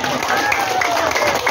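Audience at a community political gathering breaks into applause, a brief dense burst of clapping heard close and fairly loud, with voices mixed in.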